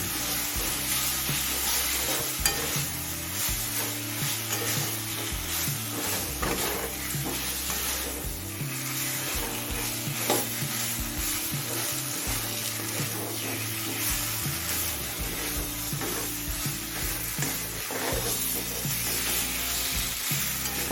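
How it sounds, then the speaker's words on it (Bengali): Fried spiny gourd pieces stirred into spices in a hot pan, with a loud, steady sizzle and the scrape of stirring throughout. "এখন ভাজা কাঁকরোলগুলো দিয়ে দিচ্ছি"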